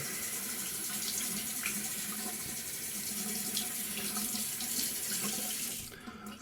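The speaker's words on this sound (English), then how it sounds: "I'm gonna rinse the rest of that off because I don't need that." Running tap water rinsing soap off during a shave, a steady close splashing stream under a faucet that continues for several seconds and then tapers off as the flow is cut near the end.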